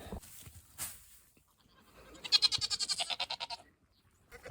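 Goats bleating nearby, a brief call early on and then a loud, rapid, wavering bleat that pulses in quick repeated bursts, with quiet rustling around it.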